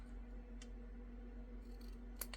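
Scissors snipping paper while crafting an autumn paper pumpkin card project, a few faint, brief cuts against a quiet room with a low steady hum.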